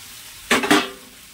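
Green peas and potatoes drop into hot spiced oil in a kadai, a sudden loud double burst of sizzling that quickly fades to a faint hiss.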